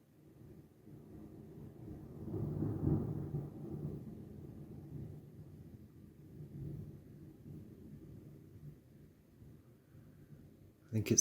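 Distant thunder from a spring storm, a long low rumble that swells and slowly fades over several seconds, faint and far off in an otherwise quiet outdoor setting.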